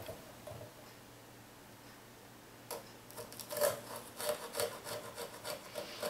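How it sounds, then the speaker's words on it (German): Quiet room tone, then a small saw rasps back and forth in quick, uneven strokes through a butternut pumpkin, close by and moderately loud. "So, nun brauche ich meine Säge."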